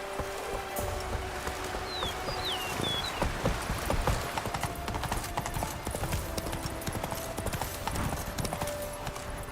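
Roach, Geralt's horse in The Witcher 3: Wild Hunt, gallops with steady, rapid hoofbeats that stay close and loud, while birds chirp briefly and other game sounds play underneath.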